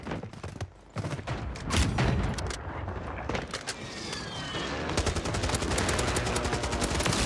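AK rifle fire in a video game comes in dense, rapid bursts of loud close shots, with a sustained stretch of automatic fire toward the end.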